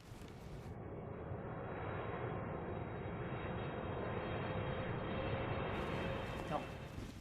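An airplane passes overhead with a broad, steady roar that holds at an even level throughout, distant-sounding but filling the scene, with voices faintly present underneath.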